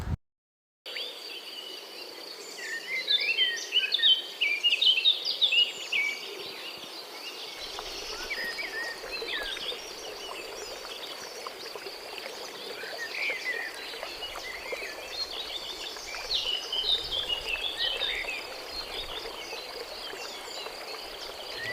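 Birds chirp and twitter outdoors by a river in Tayabas, Quezon, over a steady, soft background hiss, busiest early on, then thinner calls continuing with no voices.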